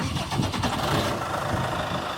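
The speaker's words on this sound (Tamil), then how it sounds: "இந்த இன்ஜினை வந்து ஸ்டார்ட் பண்ணுறாங்க, சவுண்ட் எப்படி இருக்குன்னு பாருங்கள்." New Holland Workmaster 106 tractor engine cranking and starting, a rough mid-pitched churn that catches and settles into a steady running rumble, close and fairly loud.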